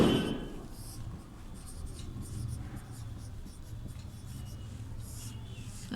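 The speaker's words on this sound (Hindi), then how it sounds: "तो क का उत्तर हम लोग यहाँ पर लिखेंगे" Pen scratching an answer onto paper in a Class VII Sanskrit lesson, a steady close rubbing scrawl that goes on throughout, with faint room noise and no clear talking.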